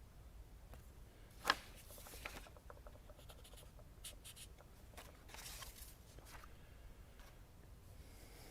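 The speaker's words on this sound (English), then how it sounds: "I'm going to draw my second one now." A pencil sketches a synoptic weather map on paper, with soft, faint scratching and short strokes continuing steadily, plus an occasional light tap, very quiet and with no speech.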